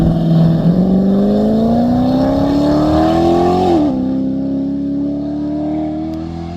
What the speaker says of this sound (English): Sounds like a good run so far. Good shifting. No cutouts, no hesitations.